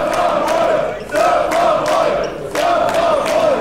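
Wrestling crowd at an Unlimited Wrestling show cheering loudly for Surfer Boy, a dense sustained roar with rhythmic chant-like swells rising and falling in waves.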